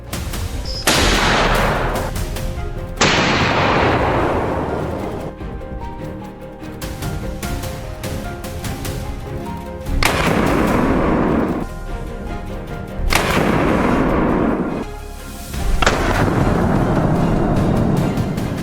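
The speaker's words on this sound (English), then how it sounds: "fired the last shot of the day. That crisp sound marked the perfect end to our journey" Five loud, sharp hunting rifle shots ring out at irregular intervals during a feral hog hunt, each followed by a long rolling echo tail, with no talking.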